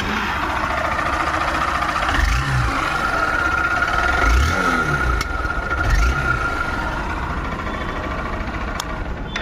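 A 2025 Honda Unicorn 160 motorcycle engine runs steadily up close, a smooth, even idle with a constant hum and a few brief swells in revs, no talking.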